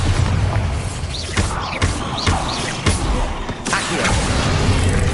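A Bombarda blast spell in Hogwarts Legacy, heard as several loud booming impacts and crashes in a dense, continuous game soundscape, with sharp hits spaced through the stretch.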